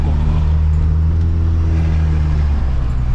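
600 hp Dodge Ram at light throttle, its engine a loud, deep, steady burbling rumble heard up close, holding an even tone while the truck cruises gently.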